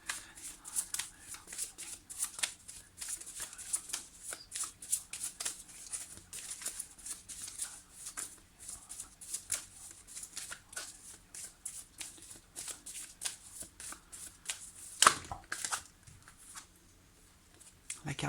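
Tarot cards are shuffled repeatedly by hand, giving close, brisk papery riffles and slides in a busy, uneven rhythm, with a short louder burst and a brief lull near the end.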